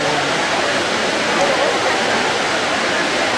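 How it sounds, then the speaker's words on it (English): Steady, dense rush of splashing water from a huge Roman fountain in Italy, a continuous broadband roar at close range with a busy tourist crowd faintly mixed in. "You hear the sound of the water."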